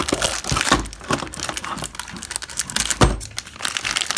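Scissors snip and crinkle through plastic Beyblade packaging up close, a run of crisp crackling cuts with a sharper crunch near the end, no talking.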